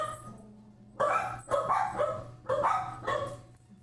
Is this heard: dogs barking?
yes